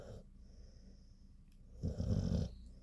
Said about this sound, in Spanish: Pero el moreno sí que ronca.